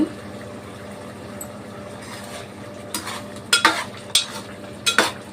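A pan of curry with coriander stirred with a metal spoon: a few scraping, clinking strokes against the pan near the end, over a steady low background hum.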